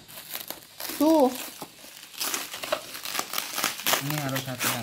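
Plastic parcel packaging crinkles and rustles loudly and close up while a blue tent is unboxed, in continuous crackly bursts, with people talking over it.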